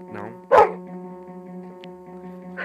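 A dog in the Minecraft video game gives a single sharp bark near the start, followed by a fainter yip, over a steady humming background tone.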